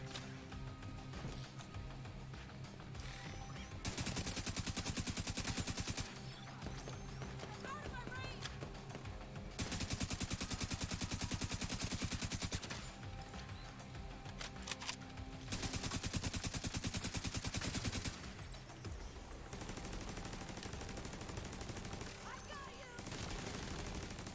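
Gunfire in The Division 2 plays as sustained rapid automatic bursts in several long stretches, dense and steady over a constant game soundscape, with a voice talking at times underneath.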